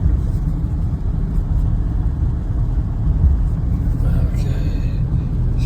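A car approaches and passes on a busy road, a steady low engine and tyre rumble heard from inside a 2007 Chevrolet 2500 pickup during a test drive, with a brief higher whoosh near the end.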